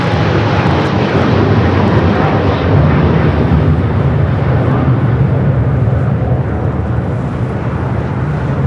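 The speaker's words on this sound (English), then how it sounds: "Boeing 737 touching down" A Boeing 737 airliner touching down at LAX, heard as a loud, continuous broadband jet roar that holds steady for several seconds with no voices over it.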